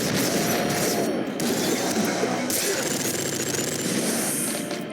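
A splinter gun in a video game fires in a dense, rapid clatter of mechanical shots, loud and continuous with short breaks, under faint talking.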